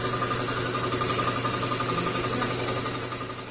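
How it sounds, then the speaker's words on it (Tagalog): An air compressor runs in a busy motorcycle repair workshop, a steady loud mechanical drone with a rapid pulsing rattle, continuing unbroken and alone with no talk. "Maingay yung compressor natin kasi marami tayong ginagawa ngayon."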